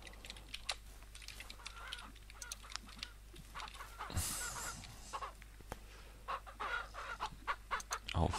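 Chickens in the Ranch Simulator farming game cluck and squawk in a steady scatter of short calls, with a louder burst of flapping and clucking midway.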